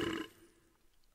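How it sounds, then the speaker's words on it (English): A burping sound effect from a Magic card video game, played when the Plague Belcher card enters: one short, throaty belch at the start that quickly fades into quiet. "it did the burping sound effect."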